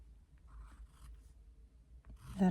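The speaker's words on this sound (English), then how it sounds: "finalize the lines in pencil" A pencil finalizes lines on paper in a few faint, soft scratchy strokes, followed by a louder rustle near the end.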